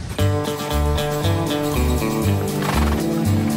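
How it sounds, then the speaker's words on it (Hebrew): Horses neigh on a farm with at least thirty horses: loud, shrill whinnies above a steady, rhythmic low pulsing background. "יש פה סוסים."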